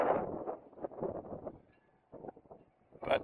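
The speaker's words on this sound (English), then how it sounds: "It's really windy, man" Strong outdoor wind buffeting the microphone, irregular loud rumbling gusts rising and falling across a few seconds, with no other clear sounds.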